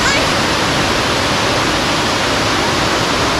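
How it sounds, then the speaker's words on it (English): Middle Falls at Aysgarth in North Yorkshire: a loud, close and unbroken roar of churning water from the viewing platform, constant throughout with no pauses. "we've just found the viewing platform for the Middle Falls"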